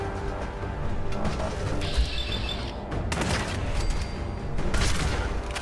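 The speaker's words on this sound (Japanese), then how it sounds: "今度あっち爆発すんのか。" Explosions and heavy gunfire in the video game Fallout 4, Automatron DLC, with loud crashing bursts and rattling blasts that come in waves, dense and close, without speech.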